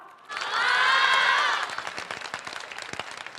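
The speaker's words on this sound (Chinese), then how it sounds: "您的掌声是对于我们小哥俩最好的鼓励" Audience applause and cheering erupt loudly for a Deyun Society crosstalk duo at a televised stage show, swelling for about a second before thinning into scattered claps.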